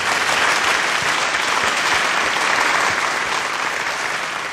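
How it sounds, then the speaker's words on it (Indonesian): Loud, dense audience applause at a thanksgiving ceremony held by the West Nias regency government, continuous and steady from start to finish with no break. "karena Bapak telah memberikan tepuk tangan"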